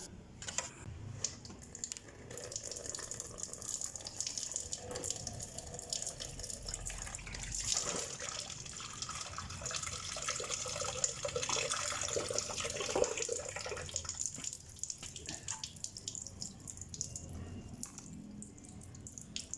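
Coolant draining from the drain plug of a car during a coolant flush, a faint, steady trickle and drip of liquid with light background noise.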